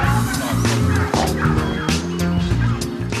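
Bronze turkeys gobbling on a farm, several birds calling over one another in loud, rapid, warbling bursts that repeat across the whole stretch.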